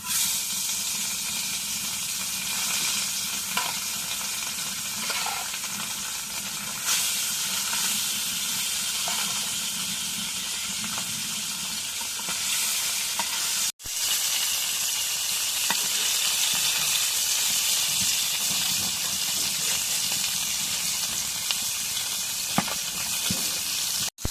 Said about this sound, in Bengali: তেল গরম হয়ে গেছে এখন মাছগুলো দিয়ে দিই